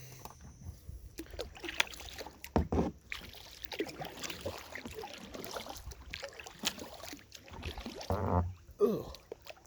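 A kayak paddled across calm water on the way to a hunting spot, giving soft irregular splashes and trickles from the paddle strokes, close and fairly quiet against an outdoor background.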